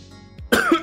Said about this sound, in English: That was a hiccup, cough, burp combo.